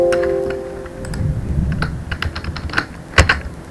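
Computer keyboard keys pressed while working in Unity on a Flappy Bird game, a scattered series of sharp close clicks with a heavier double tap near the end, no voice over them.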